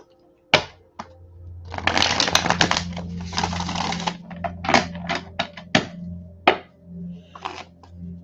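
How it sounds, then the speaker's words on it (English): Tarot cards are shuffled close by during a casual coffee reading: a sharp tap, then a dense riffling burst, followed by scattered crisp snaps and slaps as the deck is handled. "Let's get some cards for Miss Chandra."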